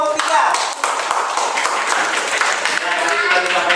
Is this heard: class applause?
yes